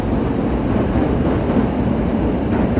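Elevated Chicago Loop trains pass along Wabash, producing a steady, loud rumble and rattle of rail cars that fills the whole short stretch.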